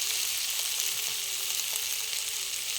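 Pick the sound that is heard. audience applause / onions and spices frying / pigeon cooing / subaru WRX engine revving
onions and spices frying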